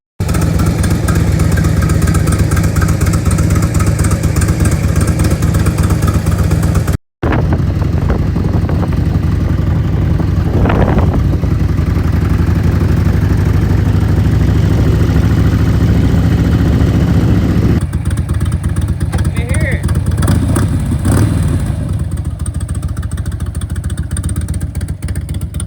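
A Harley-Davidson Road King motorcycle engine running after being revived from a beat-up state, a loud steady idle with deep rumbling pulses, briefly cut off near the start and then settling into a rougher, slightly quieter run.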